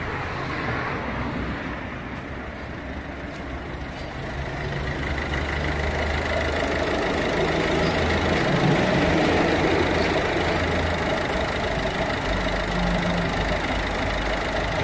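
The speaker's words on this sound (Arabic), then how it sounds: "المحرك وقت يبدا بارد يعمل في الصوت هذايا" A cold 1.6-litre car engine idles steadily for a long stretch at startup, a low rough rumble with a slight knock, close by and even in level.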